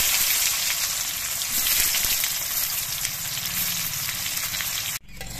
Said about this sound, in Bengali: এবার এই আমগুলো কিন্তু অল্প একটু সময় নাড়াচাড়া করে ভেজে নিতে হবে।